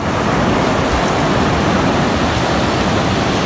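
Rough sea surf breaking on a shoreline reef, a loud continuous roaring wash of broadband noise with no distinct gaps and no voices.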